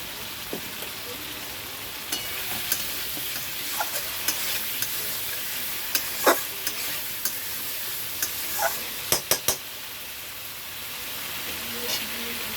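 Tangra fish and masala sizzle steadily in hot oil as they are stir-fried for kosha, with a constant bright crackle and occasional sharp ticks and scrapes from the stirring utensil.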